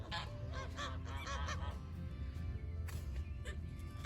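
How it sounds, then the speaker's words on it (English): A group of Canada geese honk repeatedly and loudly nearby, overlapping calls over steady background noise, with people talking faintly underneath. "arguing with Canada geese"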